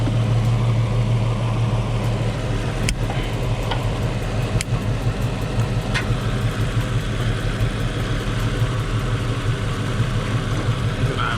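A car engine idles after a Seafoam treatment, running loud and steady with a constant low rumble and a few sharp ticks, close by and alone.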